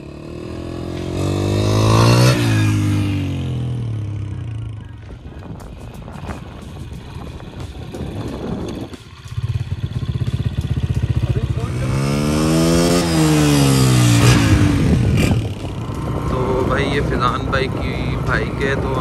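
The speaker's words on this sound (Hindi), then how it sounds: "अभी हमने फिजान भाई को बोला थोड़ी बाइक चला के दिखाएं" A 2021 Honda CG 125 motorcycle is ridden nearby, its single-cylinder engine revving up and down loudly in repeated sweeps, with the pitch rising and falling as it accelerates and eases off.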